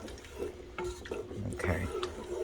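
Ingredients being mixed in a pot on a stovetop for a Thanksgiving side dish, with scraping and knocking against the pot in short irregular bursts, close and moderately loud over faint kitchen background.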